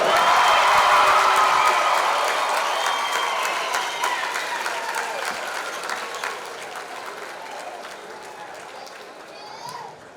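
Dense applause from the crowd at a girls' varsity basketball tournament awards ceremony, loudest at the start and thinning gradually over ten seconds, with crowd murmur underneath.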